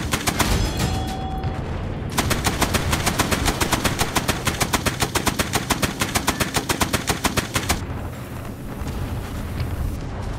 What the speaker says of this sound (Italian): Questa mitragliatrice è sotto attacco.